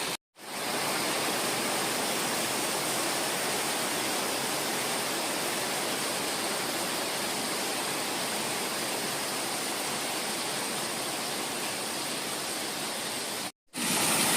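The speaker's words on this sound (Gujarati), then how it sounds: "પછી પાછો જો આ ફૂલ વરસાદ શરૂ થઈ ગયો છે" Heavy village monsoon rain pours down as a dense, uniform roaring hiss, constant and loud for the whole stretch, cut off briefly by silent gaps at the start and near the end.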